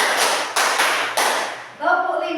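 A crowd claps a quick five-beat pattern in unison, sharp and close, followed by a voice talking.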